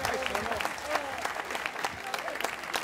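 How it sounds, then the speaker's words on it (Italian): Outdoor crowd in Piazza Manzoni, Jesolo, applauding ten singers at an evening event: dense, sustained clapping from many hands, loud and close, with scattered voices mixed in. "Fate un applauso alle 10 cantanti."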